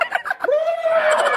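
A turkey on a farm in Kuwait gobbles close by: a quick burst of rattling notes followed by a long, loud, drawn-out call.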